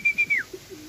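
Pigeons give a few soft coos and a brief whistling call at close range, short and fairly quiet, with no talking.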